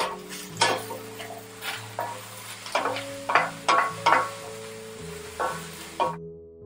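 Eggplant frying in a pan for a spaghetti squash and vegetable ragu, a steady close sizzle broken by repeated scrapes and clinks of a utensil stirring the pieces, with no talking.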